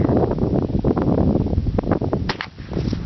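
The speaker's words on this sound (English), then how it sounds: "Oh, wind's coming up too." Strong outdoor wind buffeting and rumbling steadily through the whole stretch at a shooting range, with a couple of brief sharp knocks near the end.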